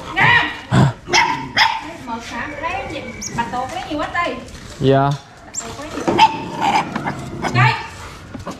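Several dogs bark, yip and whimper close by in an outdoor setting, overlapping excited barking throughout while people talk over them.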